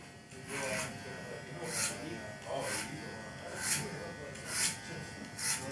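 A JRL Onyx hair clipper runs at its slower speed with a steady close electric buzz, rising in short swells as the blades move, under someone talking.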